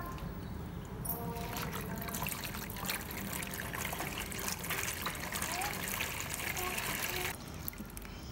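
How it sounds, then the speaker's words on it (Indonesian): Water pours steadily into a bucket being filled for keeping catfish, a continuous close trickling gush that runs for several seconds before stopping near the end. "Kasih air sampai penuh."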